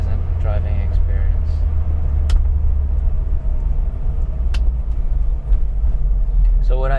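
A Citroen CX20 is driven on an open road, its engine and tyres making a steady low rumble that continues throughout, with a few brief clicks and a faint voice near the end.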